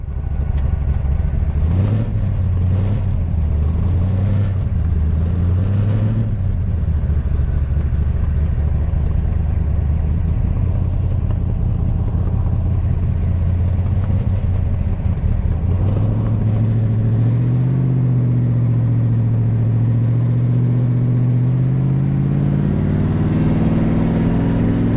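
A Factor Five MK4 Roadster driving and accelerating on a mountain road, its engine droning steadily loud and close, with pitch rising and falling through several revs early on and again climbing near the end.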